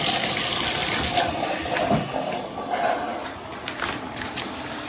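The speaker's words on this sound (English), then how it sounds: "So you'll notice the water fills up the head of the unit" Water from a 12-inch NERDON high-pressure rainfall shower head rushes in a steady, close hiss that eases slightly toward the end, with no speech.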